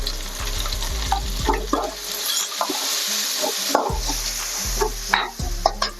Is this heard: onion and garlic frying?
yes